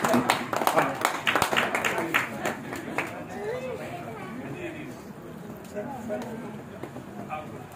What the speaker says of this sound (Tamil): ஒரு உற்சாக கரகோஷப்படுத்தலாம்